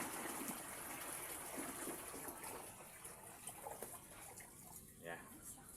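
Water poured steadily into a hydroponics container during a hands-on training session, a continuous gushing wash that fills the whole stretch, with faint talk underneath.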